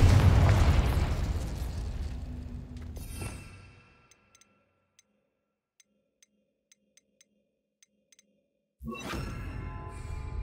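Confringo explosive spell in Hogwarts Legacy, a loud rumbling blast that fades over about four seconds into near silence with sparse soft ticks, then another loud burst cuts in near the end.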